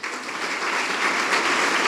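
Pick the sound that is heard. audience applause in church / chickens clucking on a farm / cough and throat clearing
audience applause in church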